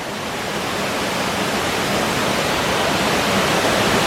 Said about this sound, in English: Water falling freely.